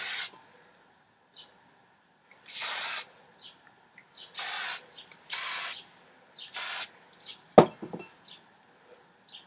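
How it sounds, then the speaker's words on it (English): Several short hissing bursts from an aerosol hairspray can, separated by pauses with small handling clicks and a sharp knock near the end. "Give it a bit of a spray."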